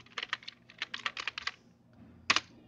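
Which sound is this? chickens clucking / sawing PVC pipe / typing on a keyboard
typing on a keyboard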